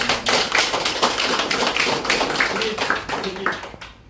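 Women in a church group meeting give a round of clapping, a steady close patter of hands that fills the space, with voices under it.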